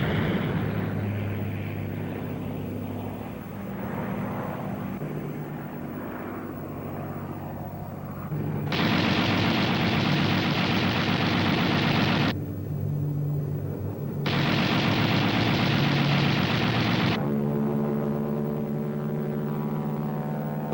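P-38 fighter planes attacking ground targets, a sustained roar of aircraft engines with two long bursts of harsh, rapid machine-gun fire, loud and close, separated by a brief lull.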